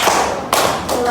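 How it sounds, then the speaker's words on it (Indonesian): A class of students in a microteaching session claps hands in two quick bursts of thuddy, close claps separated by a short pause. "Oke, yang terakhir tepuk tangan."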